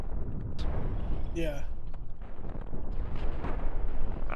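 Cannon fire and explosions from the space-combat video game Cosmoteer rumble as dense, continuous low booms with sharper bursts on top, while a player briefly speaks over the din.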